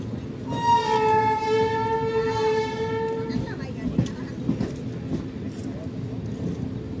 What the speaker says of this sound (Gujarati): જો મિત્રો સામેથી એક ટ્રેન ફૂલ સ્પીડમાં આવી રહી છે